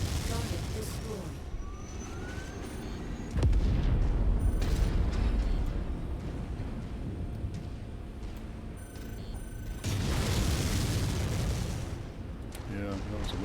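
Weapon fire from giant battle mechs in the MechWarrior 5 video game: two loud booming blasts with rumbling decay stand out over a continuous din of combat noise and game sounds.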